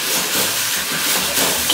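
Potato wedges with sesame and salt fry in a pan, giving a steady, bright sizzle and hiss close by, with no talking.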